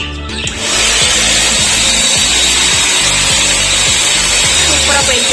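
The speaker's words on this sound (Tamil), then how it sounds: "இப்போது இந்த ப்ளோயர் யூஸ் பண்ணி இதெல்லாம் க்ளீன் பண்ண போகிறேன்." A mini vacuum cleaner used as a blower to clear dust switches on after a brief pause, then roars with a loud, steady whooshing rush over a droning motor whine.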